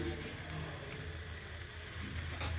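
Chopped garlic sizzling in hot oil for a snakehead fish dish, a steady close hiss of frying that continues evenly without pause.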